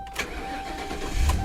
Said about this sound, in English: We'll end it at, will it start back up?